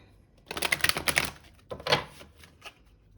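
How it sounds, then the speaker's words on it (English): A quick riffling burst of a tarot deck being shuffled, then a second shorter flurry and a few light taps. "I will do one last shuffle"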